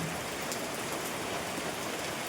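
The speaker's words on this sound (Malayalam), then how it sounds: "കണ്ടോ മഴയാണ് നമ്മുടെ കാലാവസ്ഥ" Steady rain falling outdoors during the monsoon season in Kerala, a continuous dense hiss of drops on surfaces that holds at an even level throughout, with no voices over it.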